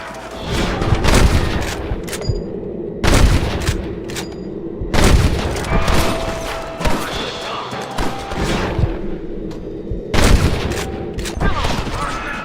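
Gunfire in Red Dead Redemption, a Western shootout with heavy repeated volleys of shots and booms in bursts every couple of seconds, loud and close, with shouted voices mixed in.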